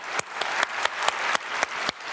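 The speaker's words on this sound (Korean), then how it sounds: "우리 예비해 놓으신 하나님께 박수로 영광 돌립니다" Rhythmic unison clapping from a church congregation at a Friday worship service, steady beats roughly every quarter second over a broad wash of hand claps, moderately loud.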